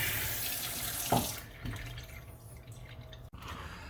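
Water runs steadily from a newly installed two-handle kitchen faucet into the sink, a close hissing splash that tapers off as the flow is shut.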